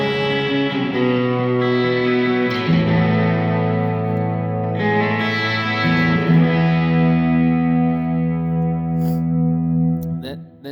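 Sustained electric guitar chords on the bridge pickup, played hard through a pedalboard drive, with a gritty, pushed edge and a wash of reverb, ringing out loud and clear before fading at the end.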